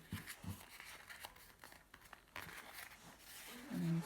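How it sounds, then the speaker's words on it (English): Paper being folded and tucked into petals for handmade paper flowers, giving soft crinkles and light rustles at close range with short quiet gaps, ending in a slightly louder crumple. "Tuck the corner up and fold it in."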